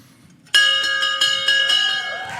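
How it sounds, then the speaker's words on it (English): Opening bell clanging to start the trading day, a loud, bright metallic ringing struck in several rapid repeated hits that sustain and ring out, close and alone. "I could use one more bell ringing to kick it off"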